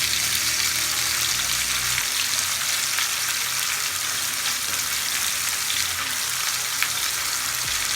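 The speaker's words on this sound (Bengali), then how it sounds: "গ্রেভিগুলো এখন এর উপর দিয়ে দিব।" Tandoori chicken cooked on a stovetop sizzles in a pan as gravy is poured over it, a dense steady hiss and crackle close by, with no one speaking.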